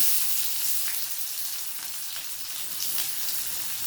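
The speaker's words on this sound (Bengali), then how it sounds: "এবার আমি কড়াইতে আবার একটু তেল দিয়ে এবার কিছুটা পেঁয়াজ কেটে রেখেছি সেটাই দিয়ে দেবো" Chopped onions fry in oil in a wok, giving a steady, close sizzle with soft crackles throughout and no voices.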